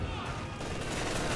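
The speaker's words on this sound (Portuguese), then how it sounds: "Vai dar uns tiros ali." Dense, loud gunfire from a battle in the World War II strategy game Company of Heroes 2 fills the moment as a continuous fusillade of overlapping shots, with no pause.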